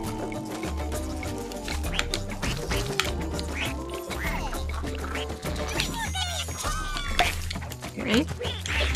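A duck in Rayman Legends quacks repeatedly amid busy game music and sound effects, with someone talking over the noise.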